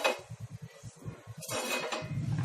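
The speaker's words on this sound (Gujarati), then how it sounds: "હવે આપણે ગેસ ચાલુ કરીશું અને લોઢી મૂકીશું" An iron griddle being set on a gas stove, with a quick run of metallic clanks and knocks as the pan is handled, then a brighter clatter of cookware, close and fairly loud.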